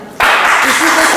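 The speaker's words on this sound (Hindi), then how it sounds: "एक बार जोरदार तालियां बजा दें, कार्यक्रम अब शुरू होने वाला है।" Audience at a Hindi Diwas poetry gathering (kavi sammelan) bursts into loud, dense applause that starts abruptly and carries on steadily, with a faint murmur of voices underneath.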